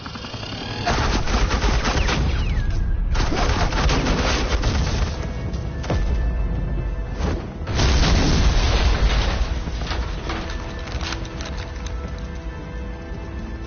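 Suppressing gunfire in a Batman video game comes as sustained, dense bursts of shots and booms, loud and continuous, with brief lulls near three and seven seconds before the barrage resumes.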